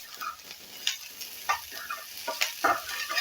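Corn upma made from fresh corn kernels, with curry leaves and coriander, is stirred in a hot pan: irregular close scrapes and shuffles over a light sizzle, with no one speaking.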